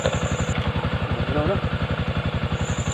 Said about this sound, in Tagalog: Napakalamig na ng tunog dito sa kanyang makina.